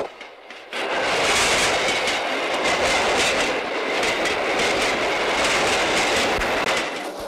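A moving train heard from close by, a loud sustained rumble with rhythmic clickety-clack of wheels over rail joints rising in after a quieter opening second, continuing steadily without speech.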